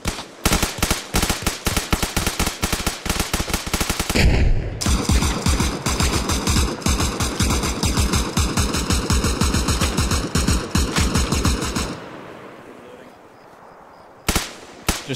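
Sustained automatic gunfire in the military simulation game Arma Reforger, dense rapid bursts that roar loud and close for several seconds, pause briefly, then a final few shots.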